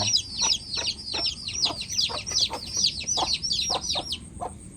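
Chickens cluck and chatter continuously at close range, a busy flock of overlapping calls over low background rumble.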